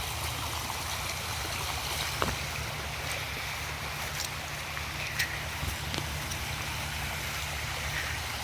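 A creek of water flows through a park in spring, giving a steady, full rushing wash with a few faint splashes and knocks, and no one speaking.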